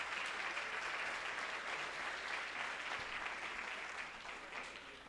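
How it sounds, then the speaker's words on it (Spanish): An audience at an Immunotec business opportunity meeting bursts into sustained applause, a dense, even wash of clapping that holds steady for several seconds before tapering slightly at the end, with no talk over it. "Un aplauso para nuestro líder es plata."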